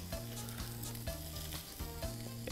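Chicken and vegetable skewers sizzle steadily while cooking, with a continuous close frying hiss and a few soft clinks from the pan, quiet and with no talk.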